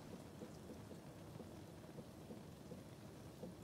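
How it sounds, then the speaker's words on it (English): Rain falls steadily in a big storm with a low rumble of thunder beneath, a dense even hiss that stays faint and distant throughout, with no voices. "The bus has been cancelled due to bad weather. It's a big storm."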